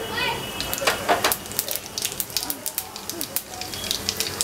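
Cumin seeds crackle and sizzle in hot mustard oil along with a pinch of asafoetida, a close hiss dotted with quick sharp pops that grow more frequent toward the end, with no talking.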